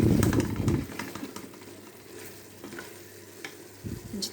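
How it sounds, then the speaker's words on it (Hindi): Spices sizzle and crackle in a hot pan, with a spoon scraping and stirring at the start and again near the end, steady and close. "इसको हम 3 से 4 मिनट भूनेंगे अच्छी तरह, ताकि मसाले जो हैं वो कच्चे ना रहें"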